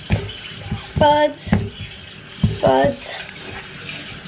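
Tap water runs into a sink as potatoes are washed, splashing in uneven bursts. People talk over it briefly, and the water swells and fades as the spuds are handled under the faucet.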